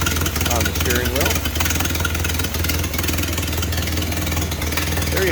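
A 1931 Ford Model A coupe with rumble seat idles steadily, its engine putting out a constant low, even chugging that continues throughout, while someone talks over it.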